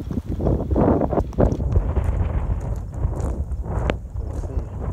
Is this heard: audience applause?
no